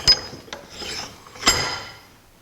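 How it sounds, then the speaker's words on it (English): A metal nut is set into a bench vise, making a few short metallic clicks and a scraping rub, close and fairly quiet, with a brief rattle near the middle. "Now we'll take and move the nut to the vise"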